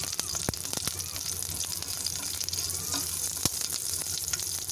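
Garam masala and green chilies fry in a spoonful of oil, making a steady close sizzle and crackle with occasional sharp pops throughout.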